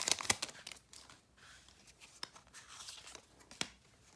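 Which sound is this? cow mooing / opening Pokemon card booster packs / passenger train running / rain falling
opening Pokemon card booster packs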